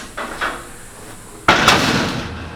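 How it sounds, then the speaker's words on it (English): The door of a Featherlite 8107 livestock trailer, a 16-foot bumper-pull model, is shut hard onto its slam latch, giving a single sharp metallic bang after a couple of lighter knocks. "It's got a slam feature on it so that it catches the door and closes it."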